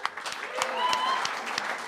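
Brief applause from a small audience for a musician at a cafe performance, scattered claps with a faint tone humming underneath, short and moderately quiet.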